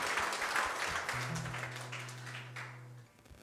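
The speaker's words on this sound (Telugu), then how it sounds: "అందరు చప్పట్లు కొట్టి ప్రభు నామమున కనపడదాం." A church congregation claps together during Sunday worship, a dense broadband patter of hands that fills the room, with a low sustained tone running beneath it before the clapping thins out.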